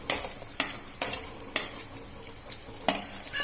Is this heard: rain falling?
no